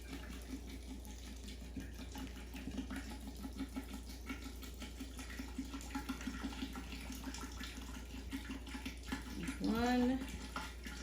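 Liquid for a homemade fire water tonic being poured into a bottle, a soft splashing gurgle that rises into a short rising fill tone near the end, with background noise and faint voices.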